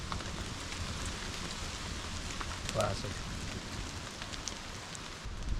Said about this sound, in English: It started raining just in time for dinner.